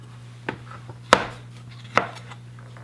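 A knife cuts plums into wedges on a board with three sharp, distinct chops spaced about half a second apart, close and clear, with no talking.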